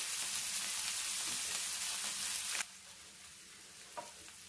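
Clam meat frying over full flame in a pan while being stirred, a loud hissing sizzle that drops sharply partway through to a quieter simmer with a light scrape near the end.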